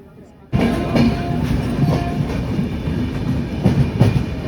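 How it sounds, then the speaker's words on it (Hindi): A passenger superfast express train pulling out of Satna Junction, heard from on board: after a short quiet start a loud rolling rumble kicks in with repeated rhythmic clickety-clack wheel beats, close and continuous. "सतना जंक्शन से भी हमारा डिपार्चर हो चुका।"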